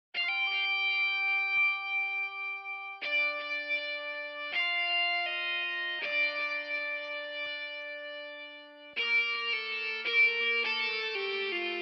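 A distorted lead synth preset imitating an electric guitar plays a slow melody alone, long sustained notes changing every second or two, buzzy and bright with a light chorus shimmer, and the pitch jumps at the end.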